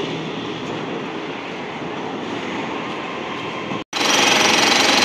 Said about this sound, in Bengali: ওই যাচ্ছে আবার মেট্রো, এটা দক্ষিণেশ্বরের দিকে চলে যাচ্ছে